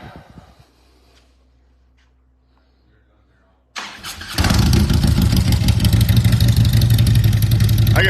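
A car on a dyno during tuning: after a quiet stretch with faint low hum, the engine fires up abruptly and settles into a loud, steady, throaty run that holds strong to the end.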